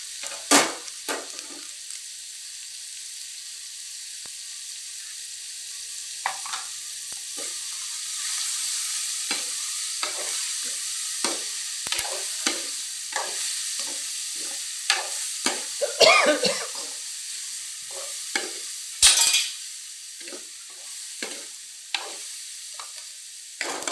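Two eggs fry in a pan for mushroom fried rice with a steady, bright sizzle, punctuated by repeated scrapes and taps of a spatula stirring them.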